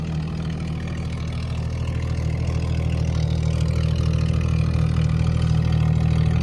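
Supercharged 4-liter Jaguar XJ engine with straight-piped exhaust idling in a steady low rumble that grows slightly louder, heard up close without any voices.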